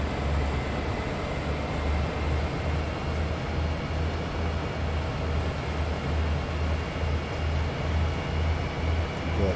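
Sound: train running uphill in video game Train Sim World 2

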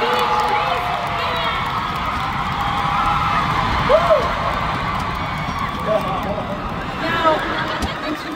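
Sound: fan convention crowd applauding and cheering

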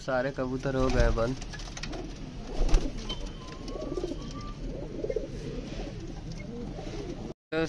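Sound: pigeons cooing

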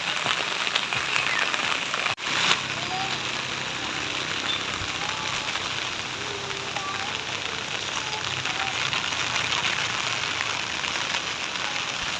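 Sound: rain

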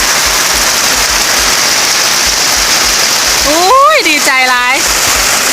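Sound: first rain of the year falling

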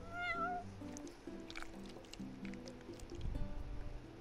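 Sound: cat meowing in the video game Final Fantasy XV

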